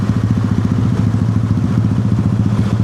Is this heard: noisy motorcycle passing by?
yes